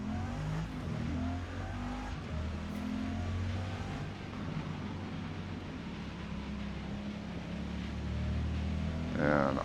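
Bugatti Veyron engine in the Forza Motorsport racing game at Suzuka, a steady mid-level engine drone with a brief rising rev at the end, no talk.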